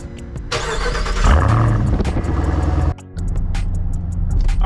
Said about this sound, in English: Give the Durango a quick cold start.